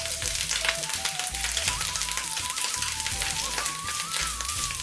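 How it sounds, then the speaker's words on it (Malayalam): Loud continuous sizzling of grated coconut frying in ghee, a dense crackling hiss with a faint tonal hum running underneath. "ഇതേ നെയ്യിലേക്ക് ഒരു അരക്കപ്പ് നാളികേരം ചിറകിയത് ചേർത്തൊന്ന് വറുത്തെടുക്കാം"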